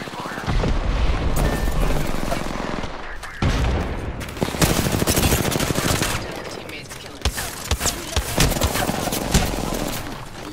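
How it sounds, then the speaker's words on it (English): Gunfire in the Apex Legends video game arena mode, rapid bursts of automatic shots and heavy booming impacts, loud and nearly continuous, with a player talking over the shooting. "I'm getting shot at."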